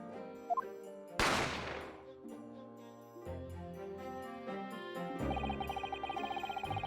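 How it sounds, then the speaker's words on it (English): A single gunshot in The Great Ace Attorney Chronicles cracks out sharply near the start, then a long noisy tail fades beneath ongoing game music with no voices present. "the sound of the gunshot had come from"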